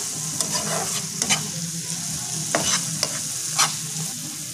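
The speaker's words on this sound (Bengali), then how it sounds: "এবার আমরা সামান্য একটু চিনি দেব। মশলাতে মাখিয়ে নেব চিনিটা।" Sugar gets worked into a cooked spice paste in a pan, a continuous close sizzle broken by several sharp spatula scrapes and taps at irregular intervals, with no voices.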